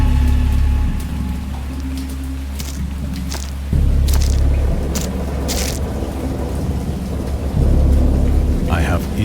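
A thunderstorm with steady heavy rain, low rolling thunder rumbling in several surges under the constant hiss of rainfall, close and loud.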